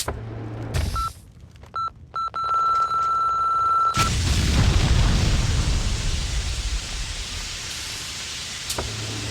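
A bomb goes off in Max Payne 2: a few short electronic beeps and a sustained tone give way to a sudden loud blast, followed by a long rumbling roar that slowly fades.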